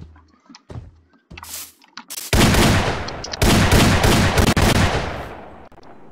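Guns from a Minecraft gun mod fire in loud bursts: a few isolated sharp shots and mechanical clicks first, then long sustained volleys of rapid gunfire close by, with brief pauses between them.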